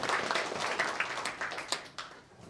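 A small audience at a Korean literary award ceremony claps for a novelist from Jeju receiving a prize, a brief, sparse patter of hands that thins out within a couple of seconds.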